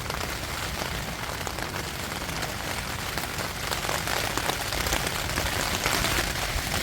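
Heavy rain drums steadily and close on a taut tent surface overhead, a dense continuous patter that grows slightly louder, with no voices.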